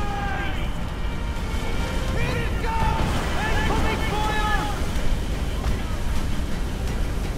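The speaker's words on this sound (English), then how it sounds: "Rough waves" Rough ocean waves wash and surge steadily in Assassin's Creed Black Flag, with wind noise throughout and short tonal game sounds rising over the water.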